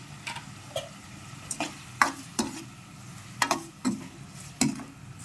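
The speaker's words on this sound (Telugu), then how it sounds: "కలుపుకొని టమాటాలని మెత్తగా ఉడికించుకోవాలి" Tomatoes cook with a pinch of turmeric in a pan for chutney, and a spoon knocks and scrapes against the pan in spaced, uneven strokes over a faint sizzle, heard up close with no talking.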